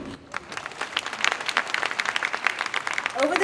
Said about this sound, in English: that requires a cheer from you